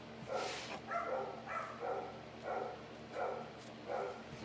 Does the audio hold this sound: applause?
no